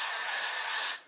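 A single short burst of adhesive spray hisses close by for about a second, then cuts off.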